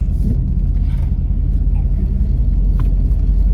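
A 1989 IROC with an LS engine swap and rebuilt front suspension and steering rumbles as it pulls away, a steady loud low engine drone up close, with people talking over it.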